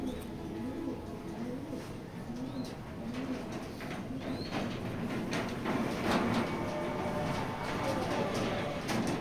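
Racing pigeons in a loft coo in repeated low, rolling phrases, close and moderately quiet, with occasional wing flutters and soft rustling around them.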